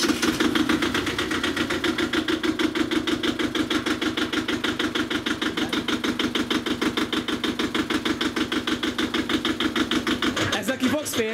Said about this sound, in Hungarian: Ez egy 900 köbcentis dízel, kéthengeres dízel.